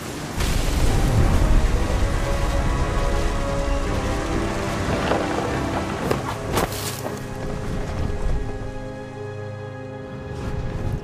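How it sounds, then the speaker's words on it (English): Heavy rain and rumbling thunder in a storm at sea in the video game What Remains of Edith Finch, a loud steady downpour with deep thunder rolls and sharp crackles building through the middle. "The thunder sounded much too close and full of angry power."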